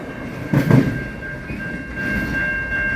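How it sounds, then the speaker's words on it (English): A VIA Budd rail diesel car passes at night, a low rumbling thump swelling briefly then settling into a steady rolling hum with a faint high whine. "That's a Bud car, probably coming from Toronto."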